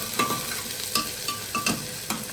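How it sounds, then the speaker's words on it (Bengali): Onions fried in mustard oil with cumin and chillies in a pan, a steady close sizzle punctuated by rhythmic scrapes and knocks of a spatula stirring, with no voices. "শেফ রূপম দিচ্ছে পেঁয়াজ। এই যে নাড়াচাড়া"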